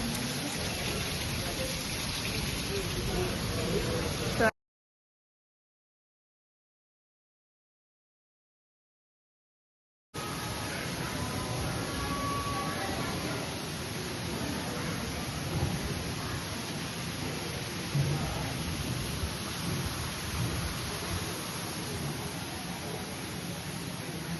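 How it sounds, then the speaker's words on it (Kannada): A steady, hissing rush of water flowing along a road, much like heavy rainfall, continues throughout, broken by a stretch of total silence early on. "ನೀರು ಬರ್ತಾ ಇರೋ ಸೌಂಡ್ ಕೇಳಿ ಎಲ್ಲರೂ ನಾವು ಮಳೆ ಬೀಳ್ತಾ ಇದೆ"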